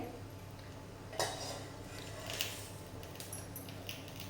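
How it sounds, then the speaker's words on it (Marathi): A metal lid comes off a pan of cooking moong dal uttapam with a quiet clink, followed by a couple of softer clatters over a low kitchen hum. "आता झाकण काढते"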